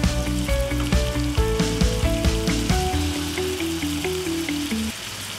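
Finely chopped garlic fries in hot oil in a pan for a fish fry, making a steady, even sizzle beneath loud background music.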